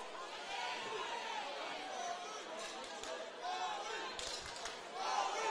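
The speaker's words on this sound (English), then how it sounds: "So you can hear the crowd getting behind Ahmed" A crowd at an amateur corporate boxing bout roars and chatters in a steady, dense wash of noise, with a commentator talking over it throughout.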